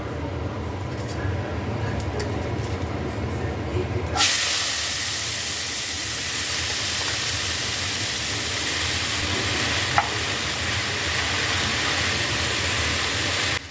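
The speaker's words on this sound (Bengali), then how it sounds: "কালো জিরা ফোড়ন" Nigella seeds tempering in hot oil for a vegetarian kalmi greens dish, a quiet background hum that suddenly bursts into a loud, steady hissing sizzle which continues close and even to the end.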